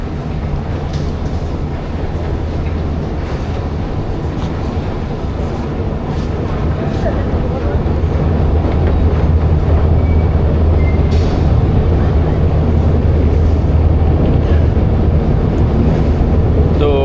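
An underground Moscow metro train rumbles through a deep station, a dense, unbroken roar that swells slightly louder in the second half and continues throughout.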